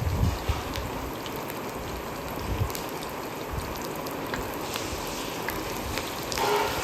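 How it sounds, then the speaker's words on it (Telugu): Green chillies and curry leaves sizzle in hot oil for a mutton curry, a steady dense crackling hiss that holds evenly throughout with no talking over it. "ఇప్పుడు ఇవన్నీ కూడా బాగా ఫ్రై చేసేసుకుందాం."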